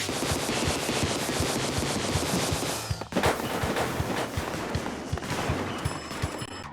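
Splat Dualies firing in the video game Splatoon 2 produce a rapid, continuous stream of loud, close shots, with a short break around the middle before the fire resumes.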